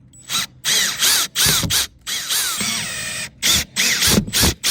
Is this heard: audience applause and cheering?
no